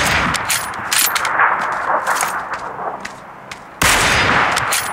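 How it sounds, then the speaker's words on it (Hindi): Gunfire rings out in a shooting video game, close bursts of rapid automatic shots with metallic clangs, pausing briefly before a loud volley resumes. "रख के शॉट मारूंगा"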